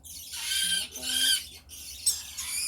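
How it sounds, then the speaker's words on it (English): Harsh, bright squawks from a scaly-breasted lorikeet, a small parrot, come in two or three close bursts with short gaps, loud and near. "So that is the scaly-breasted LORIKEET."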